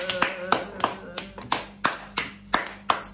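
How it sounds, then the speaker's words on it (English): Children clap in a slow, evenly spaced rhythm, about ten sharp, close claps in a classroom in Ghana, loud and distinct with little else behind them. "So give yourself a round of applause."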